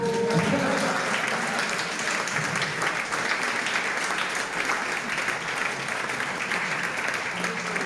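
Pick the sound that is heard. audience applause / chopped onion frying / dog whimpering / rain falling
audience applause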